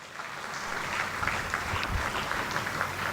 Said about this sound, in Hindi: तो फिर एक जोरदार तालियां।